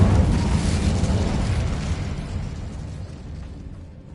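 An Incendium fire spell blasts in the video game Hogwarts Legacy, a loud, roaring burst that starts strong and slowly fades over several seconds.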